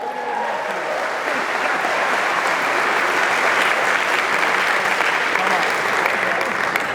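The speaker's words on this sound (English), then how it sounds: "give the Lord a hand clap of praise." An audience at a college baccalaureate service breaks into sustained applause, a dense, even wash of many hands clapping at close range.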